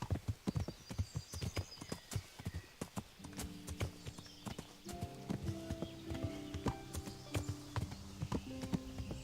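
Rhythmic clip-clop of horse hooves in the video game Kingdom Come: Deliverance, at a quick, steady pace, close by, with a tonal musical layer joining partway through.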